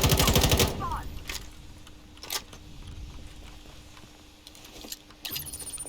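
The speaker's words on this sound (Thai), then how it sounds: "สไนเปอร์มันยิงมาดิ" Gunfire in the video game Veiled Experts: a rapid burst of automatic shots at the start, then scattered single shots and clicks over quieter background sound.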